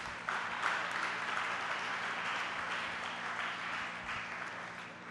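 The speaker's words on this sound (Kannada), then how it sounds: "ಆ ವಿದ್ಯುತ್ ಯೋಧರಿಗೆ ನೀವೆಲ್ಲ ಜೋರಾಗಿ ಚಪ್ಪಾಳೆ ಮೂಲಕ ಗೌರವ ಸಲ್ಲಿಸಬೇಕು" An audience at an electrical safety campaign event claps in honour of the power linemen, a dense, steady round of applause that sounds faint and somewhat distant and carries on unbroken.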